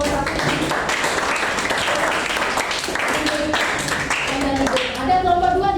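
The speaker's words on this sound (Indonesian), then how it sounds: "Tepuk tangan buat kelompok 1." Classroom audience clapping for a student group during a class session, a steady wash of dense applause lasting several seconds with voices mixed in underneath.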